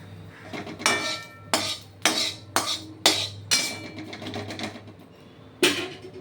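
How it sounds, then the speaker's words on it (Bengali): A metal utensil clinks and scrapes against a pan as a mustard-seed and curry-leaf tempering is poured into coconut chutney: about seven sharp, close clatters in an irregular run, with no talk. "আর সর্ষে ফোড়ন দিয়ে আমি এটার মধ্যে ঢেলে দেবো"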